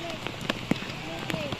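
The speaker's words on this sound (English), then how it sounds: "Raining!" Rain falls in Uttara, Dhaka, a steady patter on surfaces with scattered drop hits, under excited voices.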